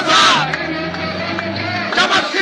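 A protest march crowd chants political slogans in unison, a loud massed roar of voices with rhythmic shouted phrases swelling near the start and again toward the end.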